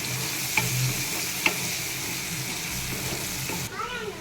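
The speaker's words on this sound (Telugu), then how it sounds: "కొద్దిసేపు ఒక 2 నిమిషాలు ఆయిల్లో మంచిగా ఫ్రై చేసుకోవాలన్నమాట వీటిని, రొయ్యల్ని." Soaked dried prawns fry in oil for a prawn curry, giving a continuous hissing sizzle with a couple of brief utensil clicks; near the end the sizzle drops away and a faint voice begins.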